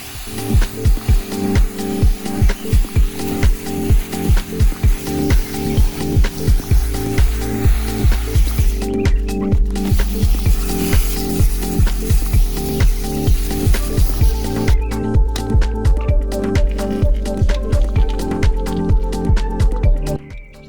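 A strong water spray rinsing rust remover off a panel of a 200k-mile Golf GTI, a loud steady hiss with rhythmic spattering pulses running the whole time and no voices.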